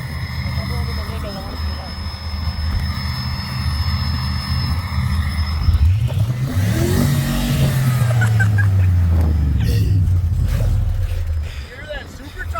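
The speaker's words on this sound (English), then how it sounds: "Hear that supercharger?" A supercharged car engine revs hard, rising and falling in a loud sweep with supercharger whine over steady road and cabin noise, heard from inside the car on a snowy winter highway while people talk nearby.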